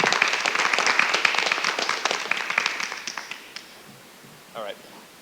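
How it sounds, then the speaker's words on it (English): A crowd applauds with dense clapping that gradually thins and fades out, followed by a brief voice near the end. "So another round of applause."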